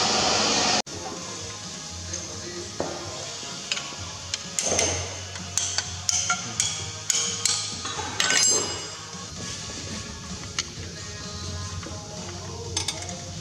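Metal tappets being tapped down into the lifters of a first-gen engine during a P-pump conversion: a string of sharp metallic taps and clinks in uneven bursts over a steady low hum, fairly close.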